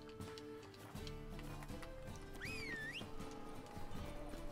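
In The Witcher 3, a horse's hooves clip-clop in a steady gait beneath game music, with a sweeping whinny-like cry rising briefly in the middle.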